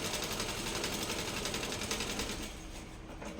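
A sewing machine runs steadily while stitching a salwar, its fast, even mechanical whirr loud and close, then easing slightly toward the end with no talking.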